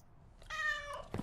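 A single house cat gives one clear, fairly close meow with a rising then falling tone, followed by a short low thump, against a quiet background.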